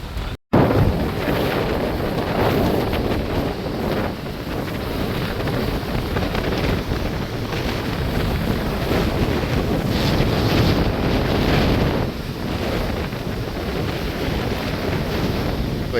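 Stormy sea waves crash and churn under strong, gusting wind on a coastline in Jaffna during a cyclone, a loud, continuous roar with heavy wind buffeting the microphone and no voices.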